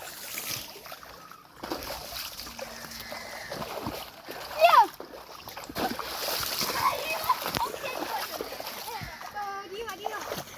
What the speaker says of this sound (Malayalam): വെള്ളത്തിൽ കളിക്കല്ലെന്ന്